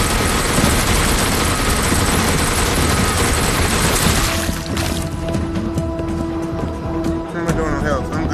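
A minigun roars in the zombie shooter game Arizona Sunshine 2, a dense, continuous stream of rapid fire for about four seconds before it cuts off and leaves a quieter, ringing background.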